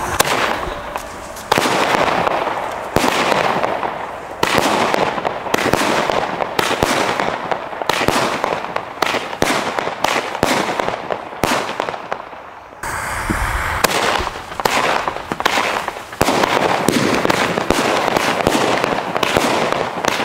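Xplode firework batteries named Pin-Up, Proton and Lucky 9 fire outdoors, with a long run of sharp shots and crackling bursts at an uneven pace, loud and close, and brief pauses between the volleys.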